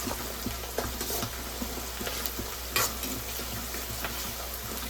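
Onions and tomatoes fry lightly in a pan for a gongura prawn curry, a constant dense sizzle with scattered spatula taps and one sharper scrape partway through.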